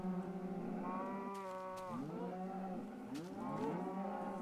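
Cows moo in a Minecraft cow farm, several long, drawn-out calls overlapping one another and steady over a low background hum, with no one talking.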